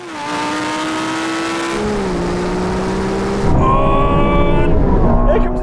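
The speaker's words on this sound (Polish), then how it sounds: "Nadjeżdża Ferrari." A Ferrari 296 sports car in a race comes closer with a loud, steady engine note, its pitch rising through the gears and holding as it nears.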